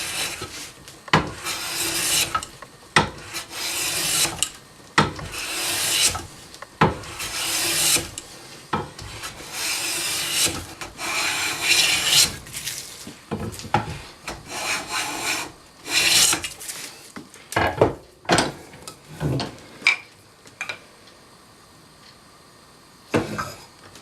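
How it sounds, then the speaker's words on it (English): A hand tool swipes along the edges of a wooden coffee table to square them, giving a run of close, repeated rasping strokes with brief pauses between passes and no talk. "a few swipes will get the edges squared up"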